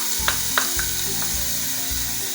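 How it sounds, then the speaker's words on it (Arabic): Onion sizzling in hot vegetable oil in a pan for a Moroccan trotters-and-wheat dish, a steady close frying hiss with a few sharp crackles and light clinks near the start, with no voices. "كنخويو هنايا البصله باش كتشحر"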